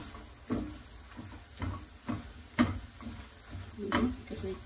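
Egg and chorizo frying in a pan, a steady soft sizzle broken by several distinct scrapes and clinks of a utensil stirring against the pan.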